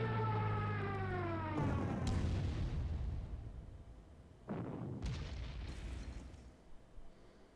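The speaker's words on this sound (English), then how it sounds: "The next city comes under heavy fire." Artillery shells pound a city in the Panzer Corps strategy game, a loud booming blast followed by a second heavy explosion that rumbles and fades.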